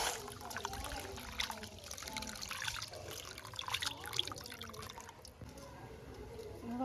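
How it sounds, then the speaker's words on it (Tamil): Rice is rinsed in water for cooking, giving soft trickling, dripping and sloshing close by, uneven and continuous throughout. "இந்த அரிசியை கழுவி கொண்டு வரப்போகிறோம்"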